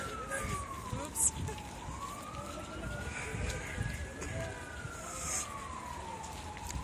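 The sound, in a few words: police sirens in the distance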